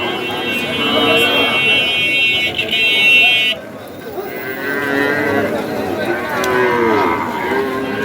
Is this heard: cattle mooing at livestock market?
yes